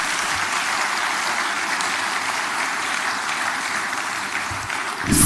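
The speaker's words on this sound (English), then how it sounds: "Can we give her another round of applause, please?" Audience applause at a Lagos Business School event, a steady wash of clapping from a seated crowd that holds evenly for about five seconds before a sharp thump at the end.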